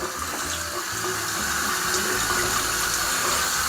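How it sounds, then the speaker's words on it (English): A newly installed HURRAN bathroom faucet runs a small, steady stream of water into the sink, a continuous close-up hiss and splash with no speech. "Just a nice little stream of water there, and turns off nice and smooth."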